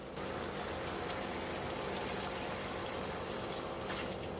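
Liquid poured into a pot of chicken and dumpling mixture nearing a boil, a steady loud rushing gush that runs unbroken, with no talk.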